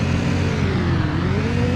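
A stuck truck in a video game drones with a constant mid-pitched engine whir and layered tones, one pitch slowly rising, steady and loud with no break.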